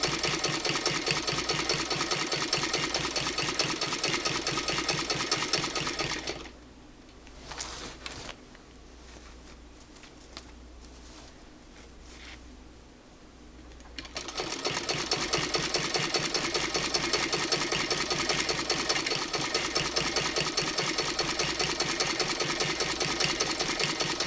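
A hand-crank sewing machine binds a quilt with rapid, even stitching clatter, then pauses for several seconds of quieter handling noises before the steady mechanical chatter resumes, close and alone.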